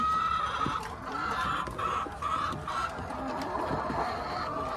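A hen clucking while hiding her eggs, with soft repeated low clucks over a steady outdoor background hum, close and moderate in level.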